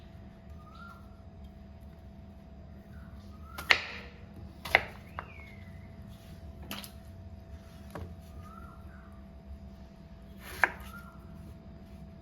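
A knife chops peeled elephant foot yam into square pieces on a board in a Kerala kitchen, a few sharp, isolated knocks spaced seconds apart over quiet room tone.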